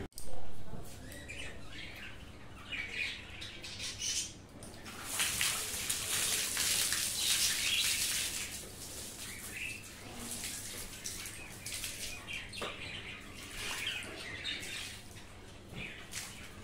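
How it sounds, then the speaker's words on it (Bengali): Water splashing and pouring steadily onto potted plants on a rooftop, including small chilli plants, a continuous close wash of spray with birds chirping in the background and a little talk. "চলো গাছে জল দিয়ে নিই"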